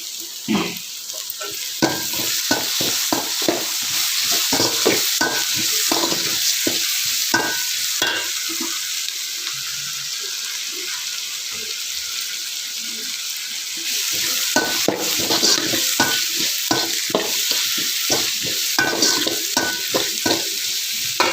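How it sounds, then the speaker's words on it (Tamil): Onion and tomato sautéing in a pan for a sardine fish curry: a constant sizzle with repeated stirring scrapes and clacks, close and loud, with a quieter stretch midway before the stirring resumes. "அந்த தக்காளி வந்து இதில் போட்டு இதையும் சேர்த்து வதக்கணும்"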